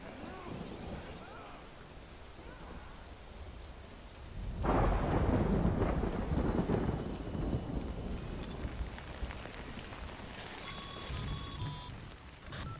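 Rain and thunder in the video game Death Stranding: steady rainfall, then a loud thunder rumble bursts in around the midpoint and rolls on under the downpour, with faint tonal game sounds near the end.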